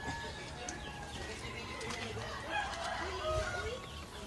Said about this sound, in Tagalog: Tingnan po natin yung ating mga native chicken mga kaitlog, yung nasa likod po ng ating kubo.